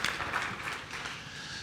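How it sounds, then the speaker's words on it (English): Applause for the speakers at a natural gas symposium session fills a hall, a dense wash of many hands clapping, moderately loud and continuous with no talk over it. "let's give a round of applause for all the speakers"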